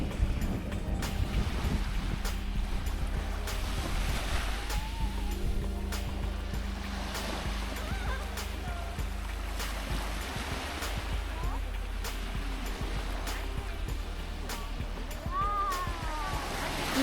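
Steady wash of surf rolling onto a beach on Korea's east coast at Yangyang, continuous and fairly loud, with wind buffeting the microphone and faint voices in the background.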